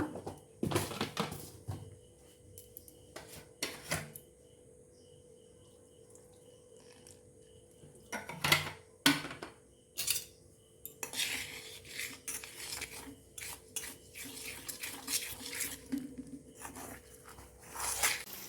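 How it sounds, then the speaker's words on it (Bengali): Soybean chop batter is stirred with water in a bowl, making intermittent close clinks and scrapes of a spoon against the bowl in bursts, separated by quiet stretches with a faint steady hum. "এবার জল দিয়ে ব্যাটারটাকে আমি রেডি করে নেব"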